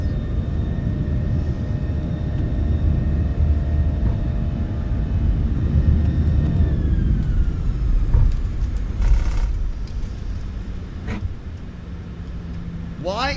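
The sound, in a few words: airplane accelerating on takeoff roll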